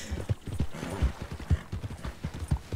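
Horse hooves in the video game Red Dead Redemption, a quick irregular series of soft thudding clip-clops on the ground, moderately close, with no talk over them.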